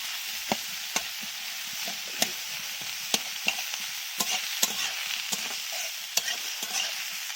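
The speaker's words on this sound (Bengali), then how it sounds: "ভালো করে নাড়াচাড়া করে দিচ্ছি, ভাজা ভাজা করে নিচ্ছি মূলোটাকেও" Radish frying in hot oil while being stirred, with a steady close sizzle and regular sharp scrapes and clacks of the spatula against the pan spread across the whole stretch.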